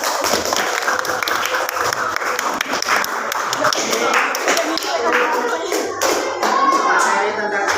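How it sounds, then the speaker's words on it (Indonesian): A classroom of students claps hands together during a school lesson on prayer, a dense, steady patter of many hands lasting throughout with voices mixed in. "Ya, tepuk tangan dulu ya."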